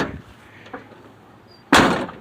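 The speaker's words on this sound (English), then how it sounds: "I could just shut that door" A sharp, loud door slam near the end, preceded by quiet ambient rustling and a soft thump.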